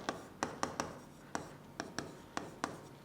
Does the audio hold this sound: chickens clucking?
no